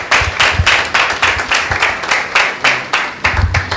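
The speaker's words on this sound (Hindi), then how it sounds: "आइए एक जोरदार ताली परमेश्वर के नाम को देते हैं" Church congregation at a Sunday meeting clapping loudly in a steady rhythm, sharp strikes repeating roughly every half second, close and energetic with no talk over it.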